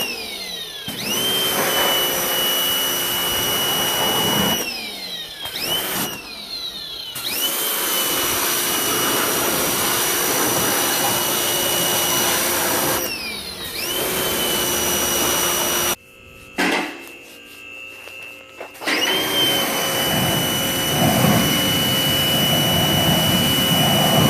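A pressure washer blasts the engine bay of a 1970 Monte Carlo that sat in storage for 20 years, a loud steady high-pitched whine from the pump running in long bursts, broken by several short pauses and one longer stop.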